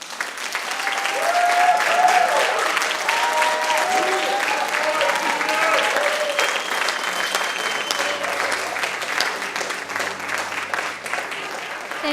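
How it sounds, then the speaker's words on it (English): An audience applauds new National Honor Society members at a 2016 induction ceremony, a steady, full roar of clapping from a large crowd that swells early and holds for about twelve seconds. "please join me once again in applauding all of our new Honor Society members"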